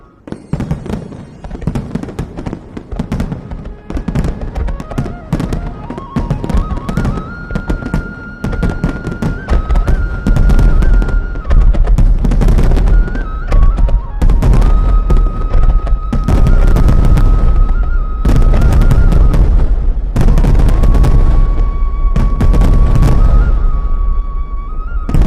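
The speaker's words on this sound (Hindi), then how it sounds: "उन्होंने अनार चलाया और आनंद लेने लगे और उनके गांव में रंग बिरंगे पटाखे चल रहे थे" Cartoon Diwali fireworks and firecrackers, including anar fountains, burst loudly and continuously, with rapid crackling pops and heavy booms layered over a sustained whistling tone, close and intense throughout.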